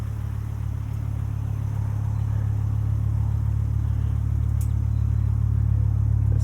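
Steady, droning engine and exhaust note from a 1997 Volvo 850 R with a five-speed manual and IPD turboback exhaust, heard from inside while driving; a constant low hum with rising rumble, no talking.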